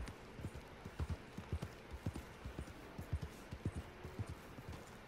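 Horse hooves in the video game Red Dead Redemption 2 clip-clop in a steady, regular walking rhythm, moderately close, over a continuous outdoor ambient bed, with no talking.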